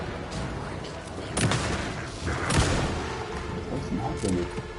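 A few booming gunshots from the video game Alan Wake 2 ring out, echoing over steady background noise, with a voice talking quietly under them.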